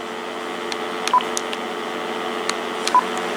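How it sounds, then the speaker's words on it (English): A Uniden TRU8885-3HS cordless phone handset sounds two short electronic beeps from its flash button, spaced about two seconds apart over a steady background hum with faint clicks, no talking. "Now let's go for the flash button on the handset."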